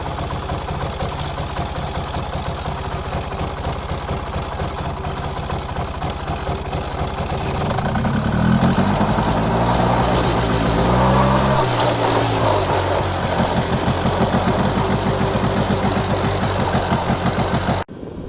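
A small off-road vehicle's engine idles steadily, then revs up and runs with rising and falling pitch as it pulls away, loud and close throughout with no talking.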